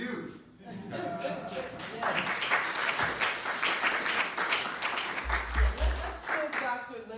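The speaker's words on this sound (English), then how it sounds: "give Dr. Linda Smith a special round of applause" Applause from an audience at a live NAAM event swells into dense, sustained clapping filling the room for several seconds, with a voice speaking under it at times.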